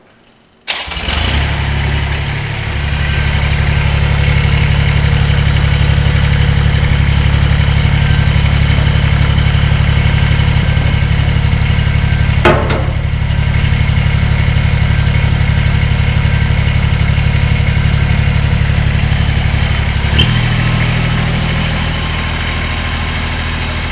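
Kubota BX series compact tractor engine starts and settles into a steady, loud, close idle that runs on alone, with a brief knock partway through.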